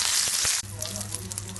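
Ingredients for an okra roti chutney sizzle in a hot pan, a bright hiss that is strongest at first and then settles into a softer, steady frying crackle.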